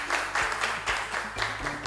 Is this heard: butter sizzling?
no